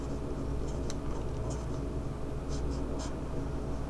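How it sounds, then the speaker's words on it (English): A pen scratches across paper while drawing the butane structure, giving a series of short, close strokes over a steady background hiss. "I'm just going to draw it for you right here."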